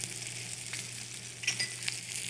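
Lemongrass, ginger, kaffir lime leaf and onions sauté in a pan for braised oxtail, giving a steady soft sizzle with a low hum beneath and a few light clinks of utensils near the end.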